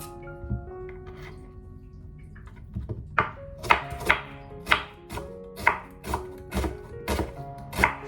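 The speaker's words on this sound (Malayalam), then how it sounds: "അപ്പോൾ ആദ്യം തന്നെ നമുക്ക് ഈ സവാള വളരെ തിന്നായിട്ട് കട്ട് ചെയ്യാം" Onions are thinly sliced with a knife on a board, giving a run of crisp, regular chopping strokes close by, sparse at first and then settling into a steady rhythm.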